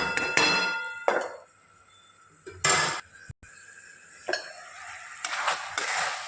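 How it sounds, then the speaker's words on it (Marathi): A metal lid is set back onto a cooking pot of tomato chutney with jaggery on a gas stove, giving a few sharp, close clinks and clangs spaced irregularly between quiet moments. "इथे 1-2 मिनटं मी आता परत झाकून ठेवते."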